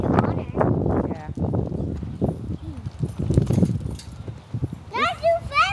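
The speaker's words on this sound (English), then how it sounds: "This is what happens to Lily's horse when she misbehaves during the lesson. She gets lunged for a little while by Brandon" A horse being lunged during a lesson, with hooves clip-clopping in a steady rhythm under people talking close by. A higher-pitched call comes near the end.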